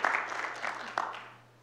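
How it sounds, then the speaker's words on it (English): A small audience at a university College of Education event claps briefly. The clapping is fairly close and scattered, with a few sharper claps, and it fades out over under two seconds. "Let's give him a round of applause."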